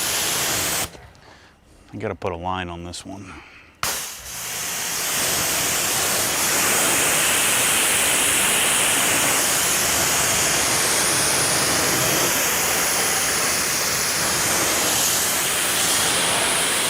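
Steady broadband spray of deionized water rinsing iron remover off an Isle of Man Green BMW G80 M3 during a decontamination wash, loud and continuous for most of the clip after a man's brief speech at the start.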